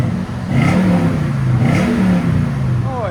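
A 2020 Toyota Tundra 5.7L V8 with a Flowmaster Super 40 exhaust and X-pipe revs up in a steady, deep throaty drone at close range, rising and holding through a couple of swells with no talk over it.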